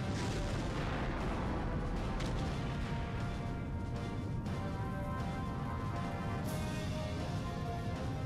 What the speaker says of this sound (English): And then it explodes.